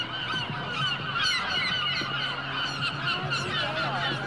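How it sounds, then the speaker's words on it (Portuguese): A large flock of geese-like birds honks and calls continuously, loud and dense with overlapping cries, over a steady background noise. "Olha esses pássaros."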